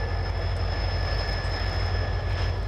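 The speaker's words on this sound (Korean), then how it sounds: "정선역에서 한 무더기의 사람을 토해낸 꼬마 열차는 증산으로 떠났다." A small local train pulls out of Jeongseon station in Gangwon Province, giving a steady rumbling roll with a thin high whine from the wheels or motor, continuous and moderately close, with no voices.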